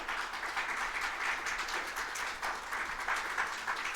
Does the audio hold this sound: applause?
yes